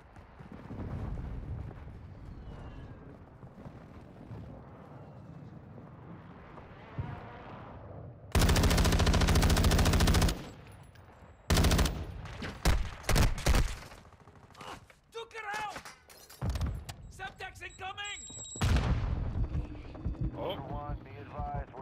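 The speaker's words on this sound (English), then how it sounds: "There's the airstrike in the AO." Airstrike explosions and gunfire in Call of Duty DMZ, with a sustained loud roar of blasts followed by scattered sharp shots and impacts, while players talk over the mix before and after.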